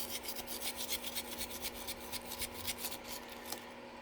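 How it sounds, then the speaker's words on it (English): A wire brush rasps back and forth in quick, regular strokes on a small-block Chevy 400 cylinder head, close and fairly quiet, with a steady hum underneath. "I got my wire brush. I'm gonna try to see if I can clean up right here."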